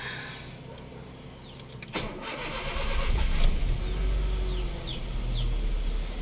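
A Honda Fit with a check-engine fault from a dead ignition coil is started after a battery check: a clunk and brief crank at about two seconds, then the engine catches and settles into a steady mid-pitched idle, close by.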